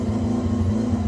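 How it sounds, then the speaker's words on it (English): Mazda RX3 rotary engine idles close by with a steady, even low hum and faint lumpy pulsing, continuous and alone with no voices. "I'm just going to let it idle for a little bit"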